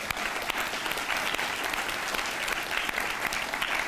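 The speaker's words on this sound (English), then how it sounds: "Please join me in thanking them with a round of applause." An audience claps steadily throughout at a high school National Honor Society induction ceremony, a dense, even wash of applause from a seated crowd in a hall, with no talking over it.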